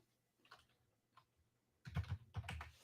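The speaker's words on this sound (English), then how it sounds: "let's just type it in here." Quiet computer keyboard typing: a few soft, scattered key clicks at first, then a denser burst of quick keystrokes close by.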